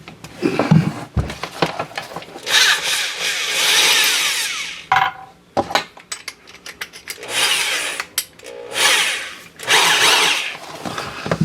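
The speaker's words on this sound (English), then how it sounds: "I think I need to drill a hole so I can get behind it and pull it out." A power drill whines in repeated bursts, revving up and down as it bores into wood, with short pauses and clunks between runs.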